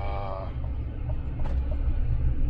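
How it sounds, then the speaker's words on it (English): Diesel truck engine during a DPF regeneration, a steady low rumble held throughout, with a brief tonal whine near the start and no talk. "the truck definitely does sound much more diesel-y"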